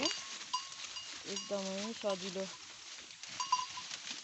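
Local goats on a small Nepali goat farm bleat a few times in short wavering calls, mixed with farmyard background noise while someone speaks over them.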